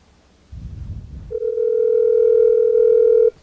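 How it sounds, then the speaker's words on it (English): A steady telephone tone plays on a line while someone calls a friend around midnight. It starts after a short rustle and holds unbroken for about two seconds, loud and close. "called Dan Dobler, even though it's really late and he's not gonna answer probably because he's sleeping"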